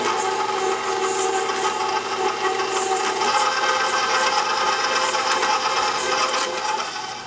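KitchenAid stand mixer running while creaming sugars, a steady whirring motor hum with a grinding, rasping texture, close and constant throughout without talking.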